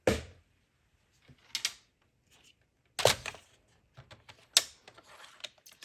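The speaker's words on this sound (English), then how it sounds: "Just wanna trim off some of the edges here." A paper trimmer cuts the edges of a handmade spring card in several short, close mechanical slides and clicks, separated by quiet gaps.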